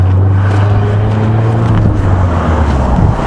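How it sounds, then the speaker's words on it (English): Cars driving past outdoors, a steady loud engine and road drone with a low hum throughout, wind buffeting the microphone and no clear individual pass-by. "I listen to these cars."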